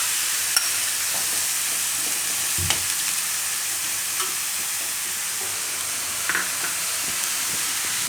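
Green turmeric and ginger fry in hot oil, a constant close sizzle with occasional pops and spatters and light stirring, with no voices.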